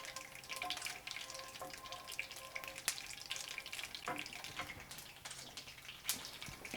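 Bay leaves and whole spices crackle in hot oil for curried cauliflower, a quiet hissing sizzle dotted with small sharp pops, faint and fairly distant.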